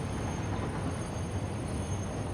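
A train in the Satisfactory factory-building game runs steadily along its rails, a continuous close rumble of wheels and carriages with no pauses and no voices over it.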